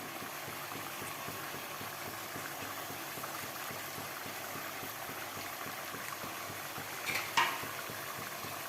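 Chicken dum biryani masala with lemon juice being gently stirred in oil, giving a soft continuous bubbling sizzle with a brief scrape near the end, close and steady.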